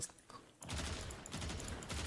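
Rapid gunfire in the Warframe video game, a dense burst of shots that kicks in after a short quiet start and keeps going loudly to the end.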